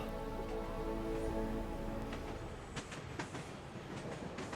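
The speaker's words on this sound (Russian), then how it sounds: "Мы сейчас едем в поезде." A train rolling along the rails, heard from inside a carriage: a steady low rumble with tonal whine early on, then rhythmic clicks and clacks of wheels over joints, moderately quiet throughout.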